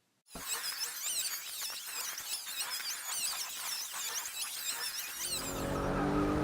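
A BMW M235i races around the Indy layout of Brands Hatch in the Forza video game, tires squealing and skidding almost nonstop over a loud, steady engine drone that swells near the end.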